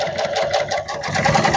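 An upholstery sewing machine stitches at a steady, rapid pace, its close, loud mechanical whirring and rhythmic needle chatter running continuously with no talk.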